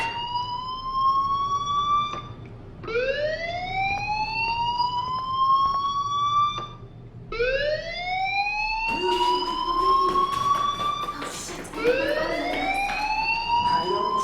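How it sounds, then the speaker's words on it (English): A school fire alarm in the video game Life is Strange sounds loudly in repeated rising electronic sweeps, each tone climbing then holding before cutting off and restarting, with no talk over it. "Hey, do you hear that fire alarm? That means you should be outside."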